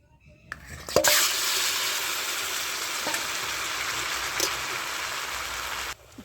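Tamarind dropped into a hot wok on the stove bursts into a loud, steady sizzle after a brief clatter, hissing evenly for several seconds before cutting off abruptly.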